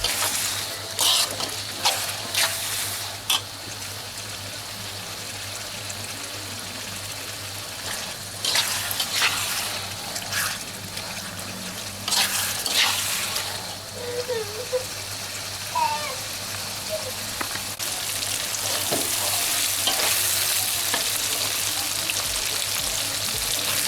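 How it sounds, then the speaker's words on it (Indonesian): Dendeng beef being stirred in a frying pan for Padang-style dendeng batokok balado, a steady sizzle with scraping stir strokes and a few clinks, close and continuous. "Aduk."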